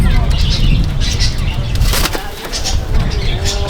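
Kalduma pigeons flap their wings inside a loft, a close, busy rustle of flapping heard beneath someone talking.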